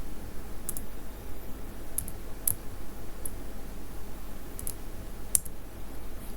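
Sparse, faint keystrokes on a computer keyboard while variable names are entered in SPSS statistics software: about eight light, isolated clicks spread irregularly over a quiet, steady background.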